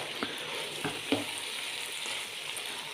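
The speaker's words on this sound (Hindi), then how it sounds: "फ्लेम को हम थोड़ा सा तेज़ करके इसको हम 2 से 3 मिनट के लिए अच्छे से इसकी हमने भुनाई कर लेनी है।" Chicken wings coated in ketchup and chili sauce fry over raised heat in a pan, a steady near sizzle with a few soft stirring knocks and no voices.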